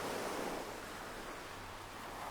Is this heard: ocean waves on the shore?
yes